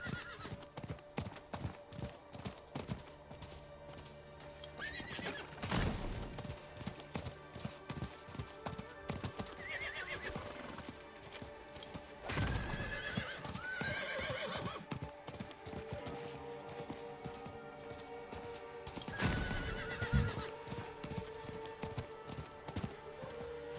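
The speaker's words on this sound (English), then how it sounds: "Your moose is making horse sounds." A moose mount in a video game gives off horse sounds: steady clip-clop hooves run throughout, broken by several loud neighs and whinnies at intervals, fairly close.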